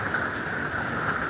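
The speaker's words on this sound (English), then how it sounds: "It's been raining all day" Steady rain from Hurricane Milton, October 2024, a continuous even hiss of falling water with no breaks or voices.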